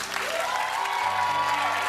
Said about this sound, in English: clap if you think it's perfect for